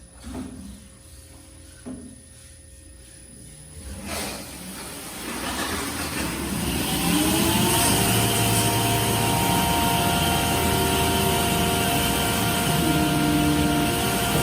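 A water pump driving a small teaching Pelton turbine for electricity generation starts up, its hum rising over several seconds into a loud, steady whine and rush that holds at high speed, close by and without talk.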